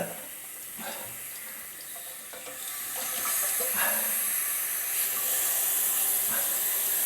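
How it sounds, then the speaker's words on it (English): Water running into a toilet tank, a soft hissing rush that grows louder partway through and keeps flowing steadily. "that water's just shooting down there"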